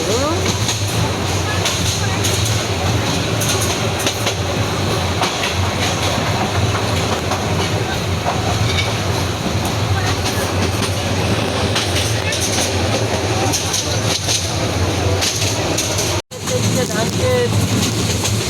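Passenger train running on rails, heard from inside a carriage as a loud continuous rumble with rhythmic clickety-clack over the track joints, and a brief dropout near the end.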